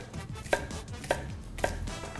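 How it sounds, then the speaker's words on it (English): Knife chopping leek and other vegetables into medium to large pieces on a cutting board, three distinct cuts spaced about half a second apart over a low background hum, close and clear. "I will take my vegetables and I will cut it into medium to large pieces."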